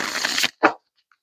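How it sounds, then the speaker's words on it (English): A deck of tarot cards is shuffled close up, with a rapid riffling burst followed by a brief snap of cards settling, then near silence. "One more shuffle."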